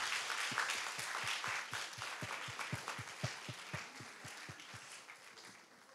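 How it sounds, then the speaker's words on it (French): Audience at a French eloquence contest final claps for two speakers, a fairly faint, rhythmic round of applause with evenly spaced claps that slowly fades toward the end. "Je pense qu'on peut les applaudir encore une fois"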